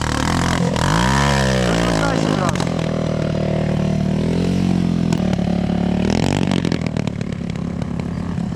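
A Chinese enduro motorcycle engine revs loud and close while climbing a hill, rising and falling in pitch with a sustained drone, with someone talking over it.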